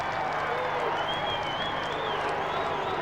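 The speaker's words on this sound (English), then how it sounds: "Only jeers coming from the crowd" A crowd at a 1996 AFL football match between Fremantle and Richmond jeers after a goal, a dense, sustained roar of voices filling the stadium, with commentary audible over it.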